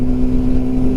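Honda CB750 Super Sport motorcycle engine revving under acceleration, a steady loud droning hum with a strong low tone and no talk over it.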